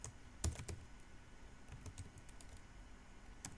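Soft, quiet keystrokes on a computer keyboard come in short irregular bursts as a folder name is typed, with brief pauses between clusters of clicks.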